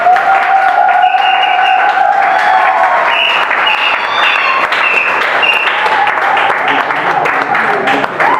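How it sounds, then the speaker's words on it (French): Wedding guests at a civil marriage ceremony break into loud, sustained applause that fills the whole stretch, dense clapping mixed with cheering and raised voices from a close crowd. "sous vos applaudissements"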